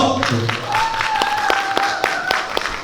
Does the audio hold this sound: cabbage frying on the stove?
no